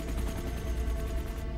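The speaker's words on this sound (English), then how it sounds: "Mel, we have a gunfire up here on the roof." Rapid gunfire on a hospital rooftop in flooded New Orleans after Hurricane Katrina, a dense continuous rattle of shots sustained and fairly loud throughout, with no voices.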